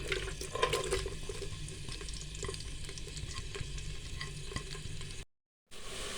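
Chopped onions frying in oil in a pan, giving a steady, close sizzle with scattered stirring scrapes and crackles. The sound breaks off briefly near the end before resuming.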